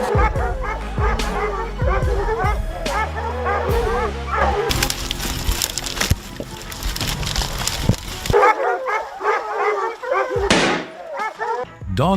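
Hunting dogs used for black bear hunting bark in repeated short bursts, overlapping and fairly close, with sharp yips among them, over a busy background of music and bangs.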